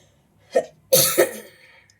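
A short cough followed a moment later by a harsher double cough, close and clear, with quiet between.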